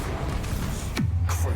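A Confringo blasting curse cast in a video game gives a quick descending whoosh, then a deep rumbling boom that lingers, over a busy background hum.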